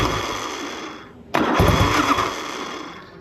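The engine of a 1984 Harley-Davidson FLT Tour Glide motorcycle cranks, then catches abruptly and runs as a loud, close, steady rumble that eases slightly toward the end.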